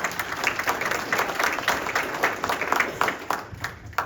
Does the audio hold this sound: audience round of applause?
yes